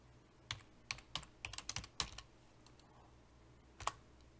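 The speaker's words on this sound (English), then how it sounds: "go to the CLI and type dump all" Quiet keystrokes on a computer keyboard while entering the dump all command in the Betaflight CLI, a burst of irregular clicks followed by a pause and a final single tap.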